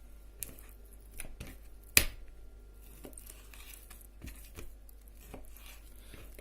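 A Yakut knife slicing fatty pork for shashlik, giving a few sharp, quiet cutting clicks and snaps spaced irregularly against a near-silent background.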